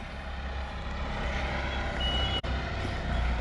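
A truck idles with a low engine rumble while a reversing alarm beeps in the background.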